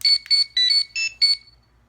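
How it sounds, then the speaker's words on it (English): Power Rangers Legacy Communicator toy giving its classic electronic chirp, five quick bright beeping bursts in a row, close and loud, then silence. "Classic communicator sound with the awesome lights here on the side."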